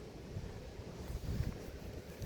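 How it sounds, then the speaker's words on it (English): Faint wind buffets the microphone in low, uneven gusts beside a stopped traffic queue on a British Columbia road, with no voices present. "It's a little windy."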